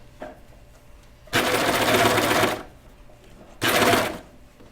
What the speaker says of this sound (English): you're going to sew your neckband into a circle.